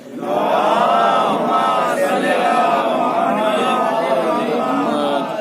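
A congregation at a majlis gathering chants salawat in unison in response to a call, a loud, sustained collective vocal roar of many voices blending together for several seconds.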